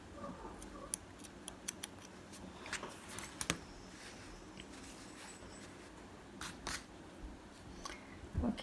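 Scissors snipping crochet yarn after a round of baby booties, a few faint, brief clicks and snips scattered across a quiet room with no talk.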